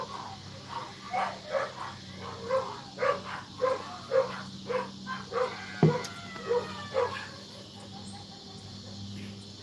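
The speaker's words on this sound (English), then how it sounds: "that's Mrs. Chubb's howling at the dogs, mainly King, our husky mix" A husky mix dog howls and yips back and forth with other dogs outdoors, a rhythmic series of short, fairly faint calls heard at a distance, with bird chirps in the background.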